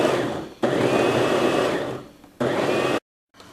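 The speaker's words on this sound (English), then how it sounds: "we're using the food processor to chop these up along with our other vegetables" Food processor chopping Jerusalem artichokes (sunchokes) with other vegetables for relish, giving a loud whirring motor roar in two long pulses with a brief stop between them and a short restart at the end.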